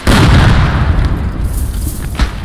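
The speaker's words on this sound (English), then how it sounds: "One of those big ass explosions." A loud, rumbling explosion in a World War I video game with a deep booming roar that sustains and slowly decays, followed by lingering crackling noise.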